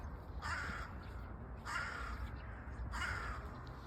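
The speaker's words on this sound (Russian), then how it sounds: "Не, ну вороны, конечно." Three loud, harsh caws from a crow, spaced evenly about every second and a half, standing out over a steady low outdoor rumble in an icy November park.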